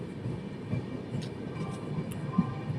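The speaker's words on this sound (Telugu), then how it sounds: "పక్కన రైలు చూసారా? టాటా నగర్ పోయేది." A train bound for Tatanagar rumbles at a railway station, a low, steady rolling noise with faint rhythmic clicks of wheels, heard from close by with no talk.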